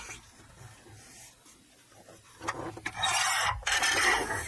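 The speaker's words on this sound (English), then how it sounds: "I'm going to trim some of the bottom first" Paper edges are trimmed for a hybrid folio journal, first faint and then a louder close rasping cut near the end.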